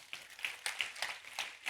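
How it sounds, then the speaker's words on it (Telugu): A church congregation claps in a quick, uneven patter of hand claps that sounds somewhat distant and modest in volume for under two seconds. "ఆయనకి గట్టిగా చప్పట్లు కొడదాం"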